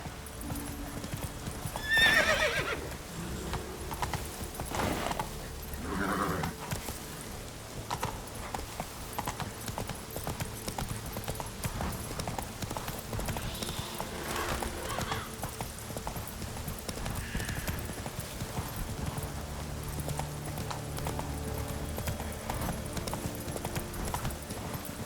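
The horse Roach in The Witcher 3 neighs loudly near the start, then hooves clip-clop steadily throughout at a trot, set against a continuous game soundscape.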